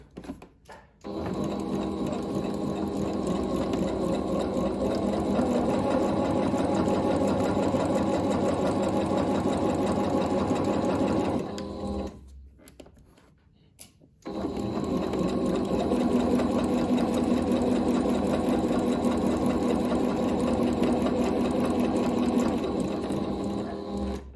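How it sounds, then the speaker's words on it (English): Sewing machine stitching pocket panels onto shirred-waist pants with a half-inch seam allowance, a steady close mechanical whir running long, briefly stopping partway before resuming. "go ahead and stitch those pocket panels on"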